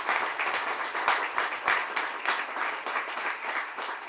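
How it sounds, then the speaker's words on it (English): A crowd at the grand opening of a regional park applauds the builders, continuous even clapping at moderate distance, steady throughout with no speech. "Let's give them a round of applause."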